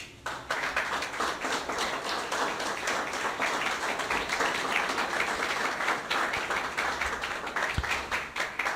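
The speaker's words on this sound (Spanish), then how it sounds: "¿Cuánto le pueden dar un aplauso al Señor?" A church congregation applauds during a sermon, steady dense clapping from many hands sustained for several seconds with no voices over it.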